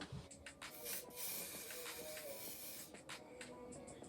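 Several short hissing bursts from a spray bottle onto a synthetic wig, spaced irregularly, close by, with a faint background rustle between the sprays.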